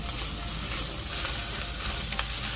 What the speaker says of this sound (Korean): 마늘 향이 올라오면 양파를 넣고 중불에서 함께 볶아줍니다.